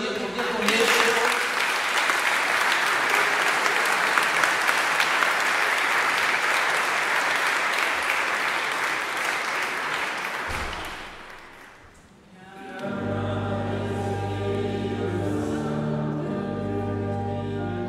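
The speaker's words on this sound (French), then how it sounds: "je vous propose de les applaudir" A church congregation applauds twin sisters at their baptism, a dense, loud clapping that lasts about ten seconds and then fades out, after which music begins.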